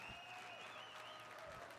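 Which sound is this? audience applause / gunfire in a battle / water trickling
audience applause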